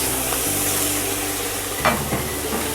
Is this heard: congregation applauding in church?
no